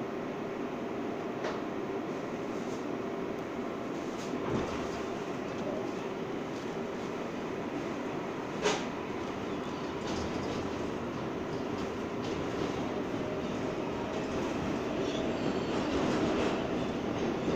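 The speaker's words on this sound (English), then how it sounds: "This is a Manhattan bound 7th local train." An R188 subway car on the 7 local line rolls along steadily, a continuous loud rumble of wheels and motors with occasional sharp clicks and brief rail squeals over the track joints.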